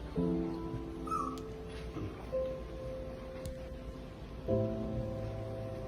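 A dog whimpering and yipping in a few short whiny bursts, faint and indoors over soft background noise.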